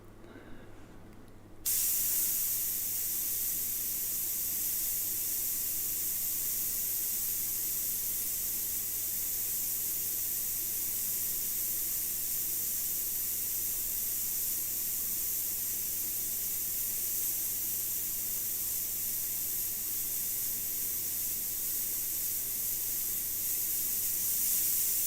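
An airbrush sprays paint in looping figure-of-eight passes to build a lacy texture, a steady close hiss that starts abruptly after a brief quiet moment and runs unbroken to the end.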